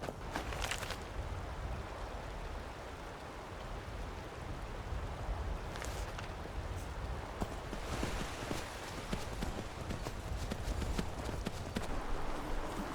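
Horse hooves clip-clopping at a steady walking pace in the Skyrim video game, a continuous rhythmic patter over a dense bed of ambient game noise, with no talking.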